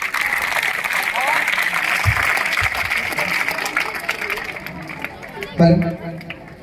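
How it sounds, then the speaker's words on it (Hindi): Crowd of students and guests at a school award ceremony for matriculation achievers claps loudly and steadily, a thick wash of applause mixed with chatter, ending in a brief louder thump near the close. "एक बार जोरदार तालियां"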